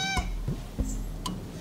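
Cats meow a few short times indoors inside a bus being converted, fairly faint against steady background hum.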